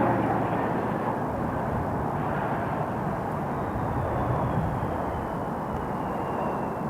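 Jazz Aviation regional jet for Air Canada Express at Toronto Pearson Airport, a steady broadband engine roar that holds at a constant level throughout without voices.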